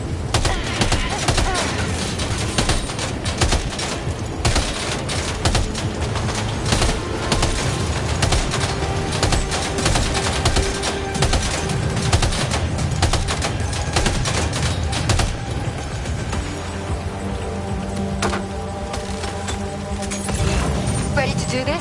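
Dense, continuous gunfire in the video game Death Stranding 2, with rapid overlapping shots forming a loud barrage that holds steady throughout, then a slightly thinner, rumbling stretch near the end.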